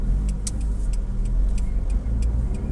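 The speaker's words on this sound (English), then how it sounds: "It's Renault duster, a French. Everyone knows Renault." A Renault Duster passes on a road in Brazil, a steady nearby engine and tyre hum with faint clicking ticks over it, no talking.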